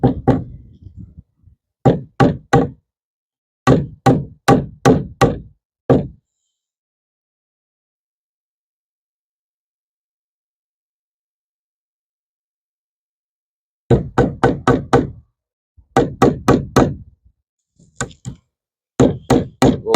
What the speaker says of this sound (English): I'm going to try and hammer these in close to the edge